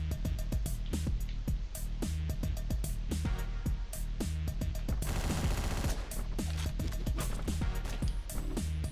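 Rapid, loud gunfire from the Hotline Miami video game, continuous bursts of shots over a pounding electronic beat, with a brief dense flurry midway.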